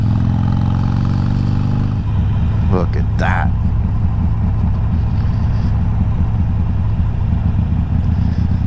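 A loud vehicle engine drones steadily and close up throughout, a heavy low rumble that never lets up, with people talking over it.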